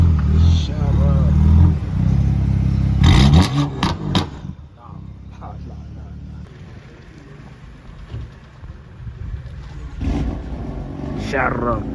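A BMW M3 F80 with an equal length exhaust rumbles loudly at close range for the first few seconds, then quiets to a lower idle, with people talking throughout.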